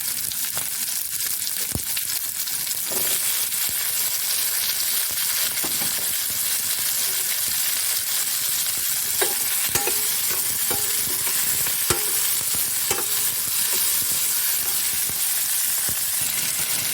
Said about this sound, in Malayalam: പിന്നെ ഇളക്കാം. ഇതിലേക്ക് ഒരു തക്കാളി ഇടാം.